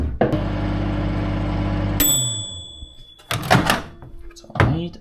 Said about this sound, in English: And microwave.